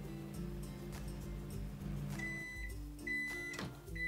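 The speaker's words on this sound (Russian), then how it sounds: "У меня микроволновка BQ. Максимальная мощность у нее 700 Вт." A 700 W BQ microwave oven runs while a pancake bakes inside. It gives a steady low electrical hum with a few tonal whines, and light clatter is audible near the end.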